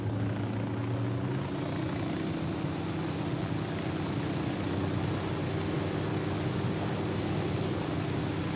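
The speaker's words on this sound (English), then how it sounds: "Helicopter, get down." A helicopter roars close by in a steady, loud, continuous drone of rotor and engine noise that fills the whole stretch without letting up.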